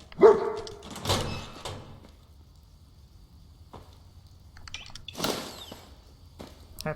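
A dog barks in the Fallout 4 video game, a few sharp barks near the start and again around five seconds, separated by quiet stretches with light thumps.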